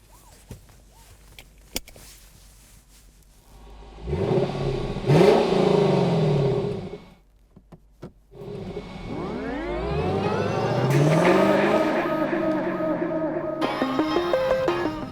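A 2021 Lexus LC 500 Convertible pulls away and accelerates, its engine note climbing in two long rising surges separated by a brief lull, heard from inside the car.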